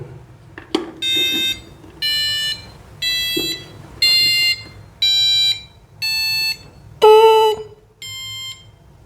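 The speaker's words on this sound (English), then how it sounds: "Let me connect the passive buzzer, and here we go." A passive buzzer beeps out a rising musical scale, eight distinct electronic tones each held about half a second with short gaps, clear and close.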